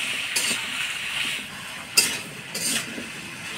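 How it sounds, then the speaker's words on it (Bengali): Mixed vegetables with turmeric, salt and green chillies are stirred in a pan, soft scraping and gentle sizzling with a few light clinks of a spoon on the metal. "ভালো করে নাড়াচাড়া করে নেব।"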